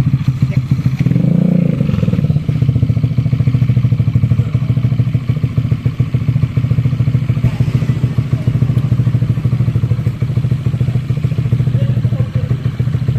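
A motorcycle engine fitted with a 65 mm bore-up kit, from a range including the Nmax, R15 and Aerox, runs loud and steady at close range with a throbbing low rumble and some clatter, revving briefly near the start.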